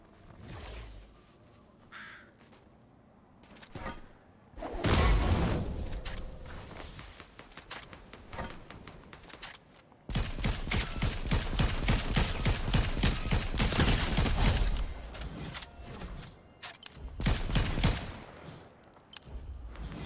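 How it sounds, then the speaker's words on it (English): Bursts of gunfire in Fortnite, including a combat shotgun, sound as rapid rattling volleys and sharp single shots that come and go across a busy stretch, loud and close, with no talking. "Are they shooting an NPC?"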